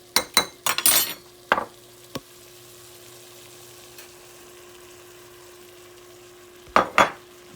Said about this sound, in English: I'm gonna put my garlic in there right now.